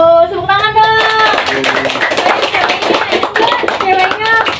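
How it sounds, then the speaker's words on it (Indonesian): Students in a university classroom clap their hands together, a loud crowd of claps mixed with lively chatter and a child-like voice over the top throughout. "Tepuk tangan dong."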